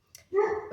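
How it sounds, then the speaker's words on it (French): A single dog bark, close and fairly loud, with a short yip before it and a sustained tonal tail, heard alone. "Mon chien vient d'aboyer, je pense que c'est pour ça."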